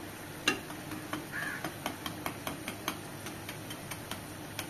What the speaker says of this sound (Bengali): মানে খুব সুন্দর কিন্তু ভাজা হচ্ছে, আস্তে আস্তে ভাজতে হবে।